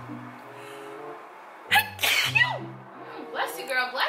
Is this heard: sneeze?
yes